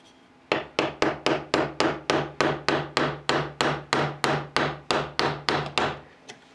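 A hammer strikes metal about sixteen times in a quick, steady rhythm, each blow sharp and ringing, close up with no talking.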